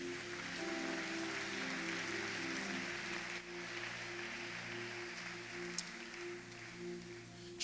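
Applause from a church congregation at a Sunday service, a steady, even patter of many hands clapping that holds throughout, set against a sustained low musical drone.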